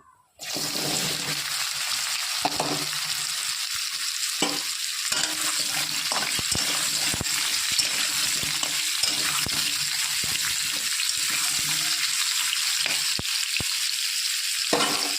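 Moringa drumsticks and potato pieces fry in hot oil tempered with whole cumin and bay leaf, giving a loud, steady sizzle that runs almost unbroken from the first second to the end.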